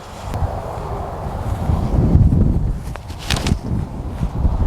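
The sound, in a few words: strong headwind blowing outdoors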